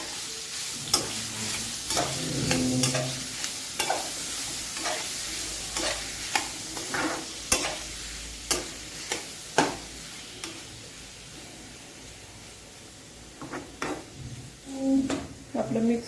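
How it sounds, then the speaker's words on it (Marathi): Papaya vegetable is stirred with spices in a pan: a spoon clacks and scrapes repeatedly against the metal over a soft sizzle, in irregular close strokes that thin out toward the end. "आता हे आपल्याला मिक्स करून घ्यायचं."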